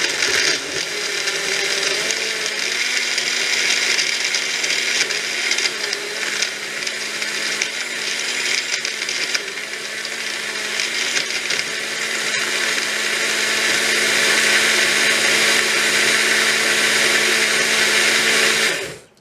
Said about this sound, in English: Then you simply put it into the blender part and you turn it.